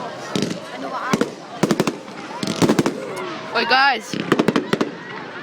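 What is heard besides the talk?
fireworks going off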